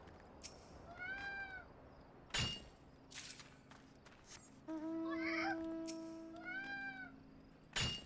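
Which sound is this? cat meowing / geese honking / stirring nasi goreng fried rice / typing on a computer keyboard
cat meowing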